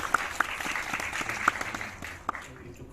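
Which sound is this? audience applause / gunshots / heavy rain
audience applause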